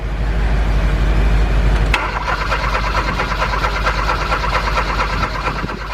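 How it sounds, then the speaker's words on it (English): A 2013 Kia Rio gas engine contaminated with diesel cranks and runs rough, a loud close churning with a sharp shift after two seconds into a steadier, uneven rattle that continues to the end. "Let's try to crank it."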